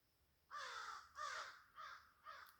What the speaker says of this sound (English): the crows start screaming again